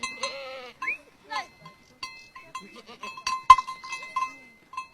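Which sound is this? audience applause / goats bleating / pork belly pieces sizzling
goats bleating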